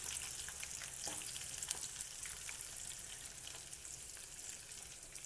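Small shallots fry in hot oil with mustard seeds, giving a dense, continuous crackling sizzle with scattered sharp pops, close and even throughout, with no voices.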